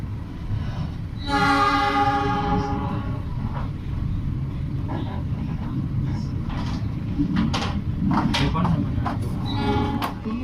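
A Commuter Line Jenggala passenger train hauled by a CC206 locomotive rumbles steadily as heard from inside an economy coach, with a horn-like tonal blast early on and scattered clanks and knocks.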